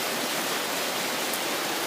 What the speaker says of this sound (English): As you can see behind me, there's a gushing river.